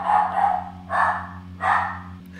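A dog barks three times in steady rhythm, somewhat distant and moderately loud, over a constant low electrical hum in a room.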